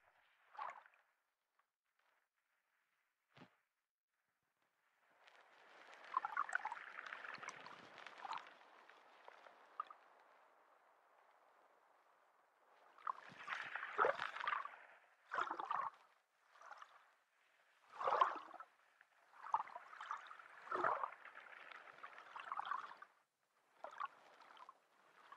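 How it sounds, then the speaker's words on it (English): Ocean waves recorded underwater by a hydrophone, faint swelling bursts of hiss and bubbling that come and go irregularly, separated by near silence. "this is how waves sound underwater"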